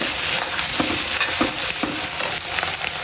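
Aloo gobi, potatoes and cauliflower, sizzles steadily in a hot pan on a gas stove while a utensil scrapes and stirs it every half second or so, close and continuous.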